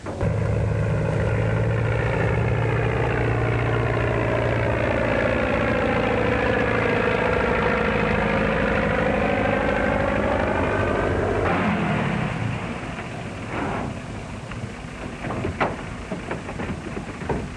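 An old propeller airplane engine warms up and idles before takeoff, a loud steady drone with slowly shifting tone that cuts out near the end, leaving quieter clatter and knocks.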